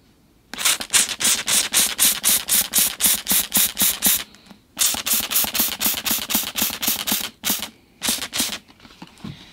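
A spray bottle mists soap and water onto a tropical bonsai tree infested with aphids, giving rapid, evenly spaced squirting pumps in two long runs with a brief pause between them, then a few final sprays, close and loud with no talking.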